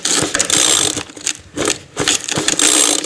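A McCulloch leaf blower that sat unused for nine years, on full choke, being pull-started: repeated loud ratcheting bursts of the recoil starter and sputtering engine, several pulls in a rough rhythm, close up with no talk.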